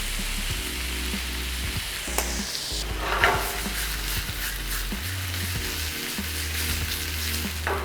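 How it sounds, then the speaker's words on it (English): Beef brisket seasoned with salt and black pepper sears loudly in a hot pan, a steady dense sizzle with occasional stirring scrapes, close and continuous with no talking. "Time to put in the beef brisket."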